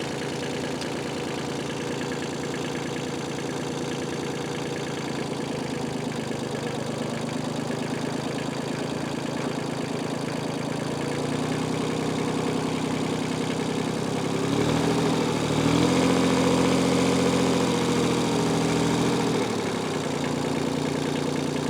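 A Kubota L245H tractor idles steadily in reverse at low range, giving a continuous knocking diesel rumble that grows slightly louder and rougher partway through, with no voices.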